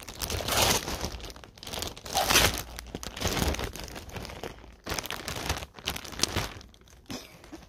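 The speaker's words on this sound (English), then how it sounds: "They have a plastic bag." A plastic bag being crumpled and crinkled up close, in loud irregular bursts of crackling with short pauses between handfuls.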